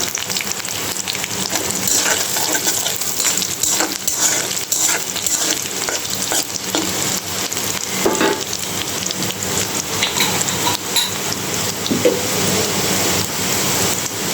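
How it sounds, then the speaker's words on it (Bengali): Onions, green chilies and nigella seeds fry in a pan with a dense, rain-like crackling sizzle that runs steadily throughout, broken by occasional stirring clicks. "তো এখন আমি দিয়ে দিব পেঁয়াজ আর কাঁচামরিচ দিয়ে দিব অল্প একটু কালি জিরা"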